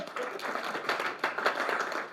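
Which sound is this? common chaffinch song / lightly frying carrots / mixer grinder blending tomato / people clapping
people clapping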